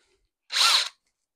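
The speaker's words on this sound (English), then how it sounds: "try and drill it out." A power drill whirs for about half a second as it bores out a wing pin on a model A-6 Intruder aircraft, a single loud, steady burst with silence before and after.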